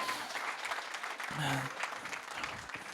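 Audience applause fills a keynote hall, a steady continuous wash of many hands clapping, with a brief voice rising over it midway.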